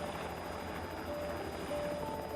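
A helicopter in flight gives a continuous rotor and engine drone, steady and moderately loud, with no voices over it.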